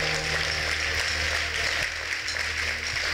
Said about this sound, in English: Let's give our papa a big round of applause.